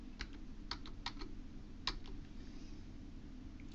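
Quiet, scattered keystrokes on a computer keyboard, a handful of soft clicks in an irregular rhythm over a low room hum while typing into an email program's settings search.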